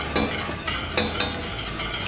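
A whisk stirs sauce in a pan over the heat, with a few scraping clicks against the metal over a steady low sizzle, close by and no voices.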